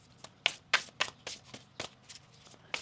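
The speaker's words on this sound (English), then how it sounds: "One more shuffle." A deck of tarot cards is shuffled by hand in a quick run of crisp riffling bursts, close and fairly quiet, with no talking.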